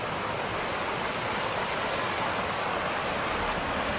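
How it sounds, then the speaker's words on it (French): An outdoor water fountain jet at the Metropolitan Museum sprays in a continuous, even hiss of falling water, steady and moderately loud throughout with no voices. "on est devant une magnifique fontaine. Enfin, fontaine, jet d'eau plutôt, qui fait des arcs-en-ciel"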